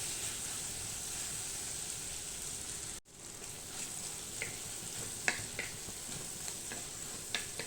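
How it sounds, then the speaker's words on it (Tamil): Bitter gourd slices dusted with chili powder fry and get turned in oil, a soft continuous sizzle with a brief dropout, then scattered spatula scrapes and taps against the pan. "நல்லா திருப்பி திருப்பி விட்டு பொறிச்சு எடுத்துக்கலாம்"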